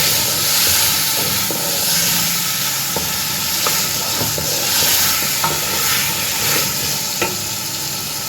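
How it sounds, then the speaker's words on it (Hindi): Tomato masala for aloo matar fries in oil while being stirred, a continuous close sizzle and hiss broken by scattered scraping clicks of the spoon in the pan. "इसे अच्छी तरह से मिक्स कर देंगे और इसका मसाला भून देंगे।"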